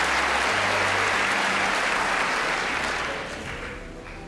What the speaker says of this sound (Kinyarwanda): Barahagurutse barongera bakoma amashyi